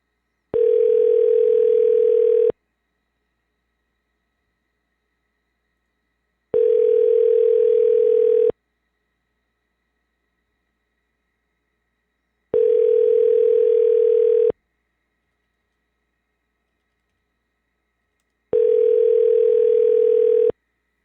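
A steady telephone tone sounds in four even two-second bursts separated by about four seconds of silence, clear and alone while a call is being dialed.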